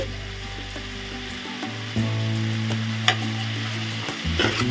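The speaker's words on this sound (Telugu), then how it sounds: "ఈ ఉల్లిపాయలు గోల్డెన్ కలర్ వచ్చేదాకా వేయించుకుందామండి" Four medium-sized sliced onions frying with salt in a pan, stirred toward golden brown for a stuffed brinjal curry: a continuous close sizzle with occasional spatula scrapes, over a steady low hum, no voices.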